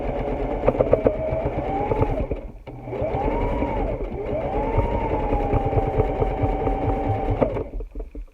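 A sewing machine top-stitches along the edge of a cloth face mask, its motor whirring steadily and loudly in long runs with brief pauses between them.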